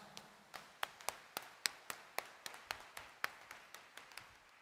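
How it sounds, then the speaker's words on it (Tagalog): A church congregation at a Quiapo Mass claps in a steady, evenly spaced rhythm, each clap crisp and distinct, heard from a distance and fairly faint with no talking over it. "Itaas nga ang kamay at pumalakpak ng mas malakas."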